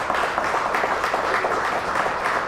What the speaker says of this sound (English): So let's give another round of applause for these 10 nominees here tonight.